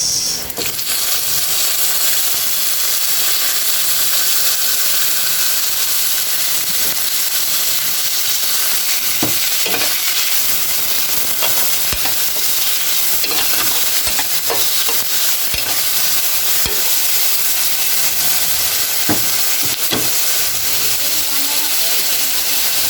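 Tomatoes sautéing in a pan for salmon-head sinigang, a steady dense sizzle with intermittent stirring clicks from a spoon, loud and continuous throughout in a noisy kitchen.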